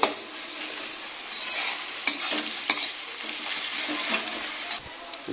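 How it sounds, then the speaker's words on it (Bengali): Onions frying in a pan alongside cooking meat in a home kitchen, a steady hissing sizzle with occasional spatula knocks and scrapes against the pan. "পেঁয়াজটা ভাজা হচ্ছে"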